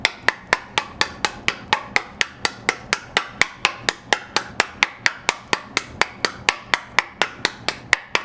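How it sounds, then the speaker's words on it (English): A test piece bonded with Weldwood contact cement is struck again and again with a hammer, about three sharp, loud whacks per second in a steady, even rhythm, close to the microphone and with no voices. "And let's start whacking this thing."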